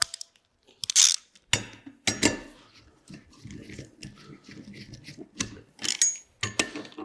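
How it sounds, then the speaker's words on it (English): Mounting bolts on a Subaru EJ SOHC cylinder head are tightened with a 12mm socket ratchet, giving bursts of close, rapid ratcheting clicks and clatter separated by short pauses. "Grab my 12mm socket. Tighten those down."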